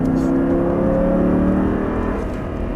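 Audi R8 accelerating hard on a race track, a loud, continuous engine roar heard from close up with a rising pitch through the run.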